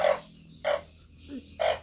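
Narrow-mouthed frogs call after rain, giving three or four short, loud, nasal croaks spaced about half a second apart, close by, with a faint lower call between them.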